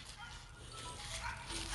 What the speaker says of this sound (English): Luna, keep barking.